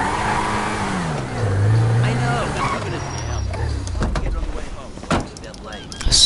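A car engine in a video game revs and drones with rising and falling pitch, under someone talking over it throughout.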